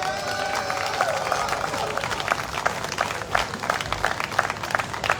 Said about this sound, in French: je vous demande d'applaudir très chaleureusement Jean-Michel Lutobi